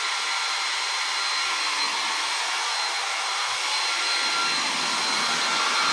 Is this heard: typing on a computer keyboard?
no